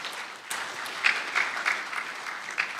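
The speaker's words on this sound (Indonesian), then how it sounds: "Kita berikan tepuk tangan Bapak Ibu." An audience applauds steadily at the inauguration of a command center building at the East Java BPSDM, where the governor signs a plaque. The dense clapping carries on throughout, with a few louder bursts.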